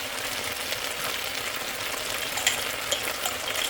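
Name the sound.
onions and vegetables frying in a pan for beef stir fry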